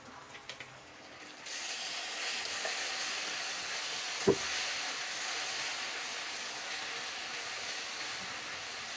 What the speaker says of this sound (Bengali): এখন আমি এর মধ্যে দিয়ে দিব এখানে আদা রসুন জিরা বাটা আছে